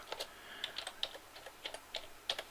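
Quick soft keystrokes on a computer keyboard as a preset name is typed, a close, quiet run of about a dozen uneven taps with no voice over them.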